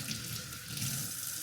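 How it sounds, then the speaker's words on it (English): Tap water runs steadily into a kitchen sink while an onion is rinsed under the stream, a close, even splashing hiss with no talking. "let me wash this onion."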